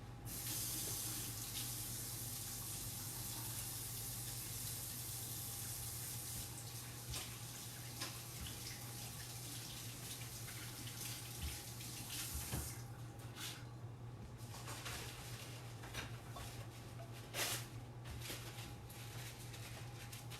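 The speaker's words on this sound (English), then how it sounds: "I'm gonna wash this hand" A kitchen sink tap runs in a steady, even stream while a hand is washed under it, with a few faint splashes and shifts in the flow.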